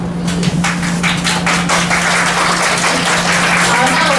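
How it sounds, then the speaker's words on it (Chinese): Loud, steady applause from an audience at an elementary school art-week show, welcoming a sixth-grade class performance, with dense clapping throughout over a low electrical hum. "掌声欢迎六年级所带来的演出"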